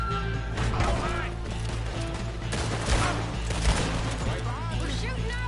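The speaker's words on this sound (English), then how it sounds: "We're shooting our way out of here, boys!" Video game gunfire on a PS4, a rapid barrage of shots and crashing impacts layered over steady background game sound, with a voice talking over the action.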